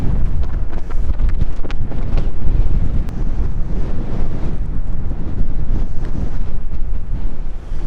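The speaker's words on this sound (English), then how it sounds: "Might have to play the wind here." Strong wind gusts across a golf course, buffeting the microphone with a loud, constant low roar that barely lets up, with no speech heard.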